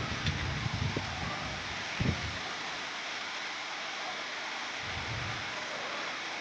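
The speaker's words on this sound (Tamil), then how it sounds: "கடந்த ரெண்டு நாளாகவே பெஞ்சல் புயல் காரணமாக மழை வெளுத்து வாங்குதுங்க" Heavy rain from Cyclone Fengal pours in Villupuram as a dense, steady hiss of downpour with a few low rumbles or thumps early on, continuous and fairly close.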